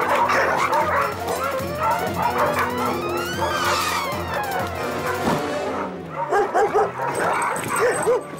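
A cartoon dog, Odie from Garfield, barks and yips loudly in quick repeated bursts over a busy animated soundtrack with music, then gives a few more close barks near the end.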